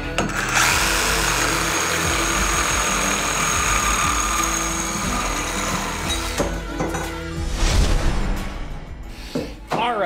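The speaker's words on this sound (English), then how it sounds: "I'm gonna use a reciprocating saw to cut these, and I'm gonna cut them at 17 inches." A reciprocating saw cuts EMT conduit into lengths with a loud, steady buzzing drone that runs for several seconds, then changes and fades as the cut ends, followed by some clatter nearby.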